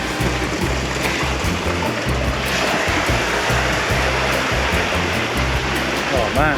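Wet concrete rushes down a six-metre chute in a steady, loud, close flow of churning wash that never lets up, with voices talking over the pour.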